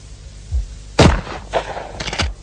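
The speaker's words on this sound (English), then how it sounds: "And that's how a Benelli shotgun shoots and aims by itself." Several loud shotgun blasts from a Benelli shotgun, fired outdoors in quick succession, with sharp reports and trailing echoes.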